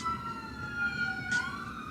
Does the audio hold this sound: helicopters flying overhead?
no